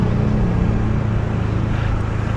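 A Honda ADV160 scooter engine drones steadily as it decelerates while riding, a loud, continuous low hum with a smooth buzzing tone and faint wind noise, with no talking.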